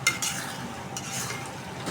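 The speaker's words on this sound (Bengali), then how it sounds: "কলিজাটা কষাই নেবো ভালোভাবে।" Chicken liver stir-frying with spices in a pan, a close, continuous sizzle with brisk scraping strokes of a spatula across the pan over the whole short stretch.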